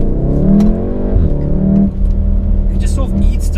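A VW Golf R accelerating hard on a road, the engine note climbing through two gear changes with a brief dip at each shift, loud and close from inside the car, with a voice speaking over it.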